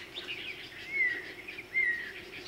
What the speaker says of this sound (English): I got some kind of little finch with yellow on his belly